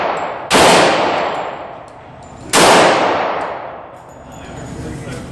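Glock 21 pistol fired at targets on a range: two loud, close single gunshots about two seconds apart, each ringing out in a long decaying echo, with no talk.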